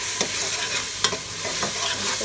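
A spoon scrapes and stirs aloo methi with salt in a sizzling pan, a few sharper clinks standing out over a continuous close frying hiss.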